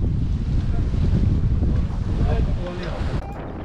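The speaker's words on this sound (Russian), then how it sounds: "Ветер порывистый." Gusty wind on Lake Ladoga buffets the microphone with a loud, rumbling roar aboard an open rowing boat, the gusts rising and easing over a few seconds alongside faint water noise, and a voice briefly audible.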